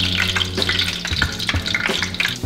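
Sliced garlic sizzles in hot shrimp-flavored oil in a pan, a bright crackling fry with stirring scrapes and clicks, close and busy across the short stretch, with no voices.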